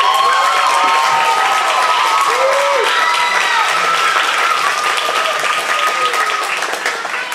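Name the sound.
audience applause for a performer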